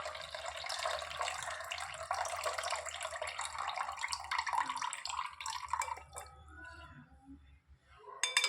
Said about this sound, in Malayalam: ആദ്യം നമുക്ക് ഉപ്പിലിട്ട് വച്ചിരിക്കുന്ന മാങ്ങയുടെ വെള്ളം ഒഴിച്ച് കൊടുക്കാം